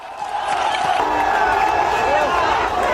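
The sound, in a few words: crowd clapping and celebrating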